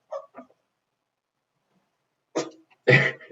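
A person sneezes loudly and close by at a computer during an online chess game, preceded a moment earlier by a couple of short, quieter sounds, with silence in between.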